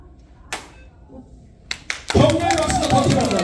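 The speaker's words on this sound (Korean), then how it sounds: "우리 두 팀에게 다시 한번 응원의 박수" Audience at a Hanggung demonstration clapping to cheer two teams; a few isolated taps come first, then a sudden burst of full applause takes over, under speech.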